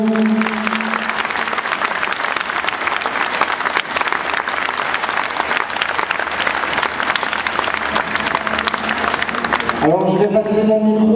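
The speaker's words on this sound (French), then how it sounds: "Et on va les applaudir, merci à vous." Dense, steady applause from an audience at an aikido demonstration in an arena, loud and sustained, fading as a voice and a tone come in at the end.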